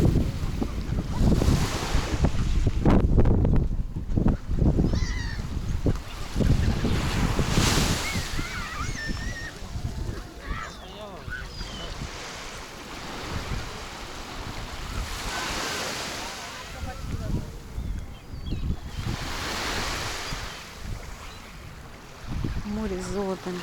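Black Sea waves washing onto the shore on a sunny winter day, loud surges of surf under gusty wind noise, with birds calling faintly and a voice speaking in places.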